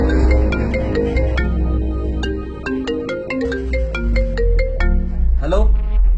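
An incoming-call ringtone plays on a mobile phone as a plinking electronic melody of quick repeated notes, loud and close over a low hum, with voices murmuring underneath.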